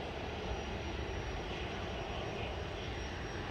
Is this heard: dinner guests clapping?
no